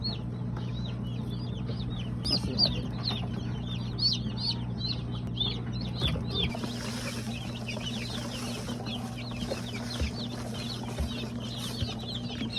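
Around twenty-two baby chicks peep in a dense, continuous chorus of high, thin calls, heard over a steady low hum.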